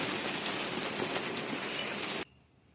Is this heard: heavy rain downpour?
yes